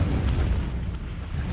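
Low, rumbling whoosh of an Incendio fire spell in Hogwarts Legacy, a dense boomy burst that holds at moderate loudness with faint flickering crackle above it.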